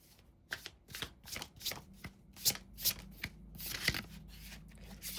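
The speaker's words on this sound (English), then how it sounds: "And I'm pulling one card from this tarot." Tarot cards being shuffled by hand during a single-card reading, a run of crisp riffling bursts and soft slaps that grow busier and louder toward the end, close up with no talking.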